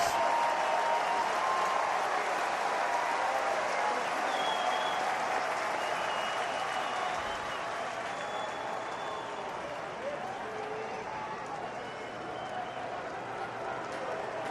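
A ballpark crowd at an Atlanta Braves vs. Cincinnati Reds baseball game roars steadily for the whole stretch, a dense, sustained cheer and applause from a large stadium audience with faint voices woven through it.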